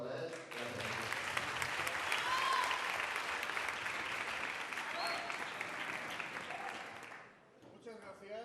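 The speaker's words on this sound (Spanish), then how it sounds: "Un aplauso para él" Lecture audience at a national social sciences student conference applauds a speaker, a steady wash of many hands clapping through most of the moment, cutting off near the end as a voice begins talking.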